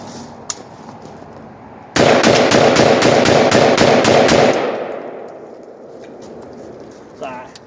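An AK-47 rifle fires a rapid burst of about a dozen loud, sharp shots in quick rhythm, then the echo trails off into quiet, with a brief faint voice near the end.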